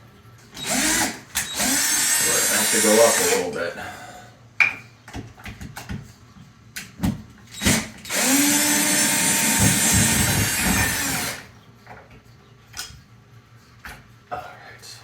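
Power drill boring a pilot hole into a wall stud, striking a nail, while mounting a curved shower curtain rod; two long, loud bursts of drilling with short pauses and clatter between, a person speaking briefly nearby.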